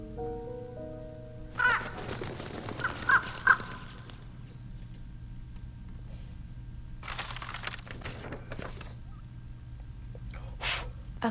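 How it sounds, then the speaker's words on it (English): A crow caws in the video game Reverse: 1999, several sharp harsh calls in short bursts separated by quieter gaps, with a low steady background drone underneath. "A crow?"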